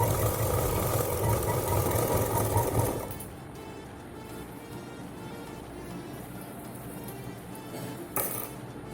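A sewing machine stitches a purse seam with a fast, loud, steady whirring run for about three seconds, then stops, leaving a quieter hum and a brief clack near the end.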